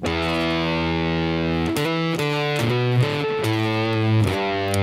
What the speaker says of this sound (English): And now it's totally a fuzz sound.